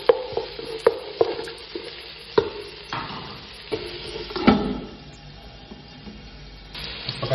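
Ginger sautéed in a pan for chicken sinigang: close sizzling with repeated sharp clacks of a spatula scraping and stirring, a louder burst of sizzle midway, then a quieter steady fry.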